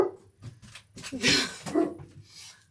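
A dog barking at delivery people, several close, loud barks and yips in short bursts, with a whimpering tone between them, heard indoors.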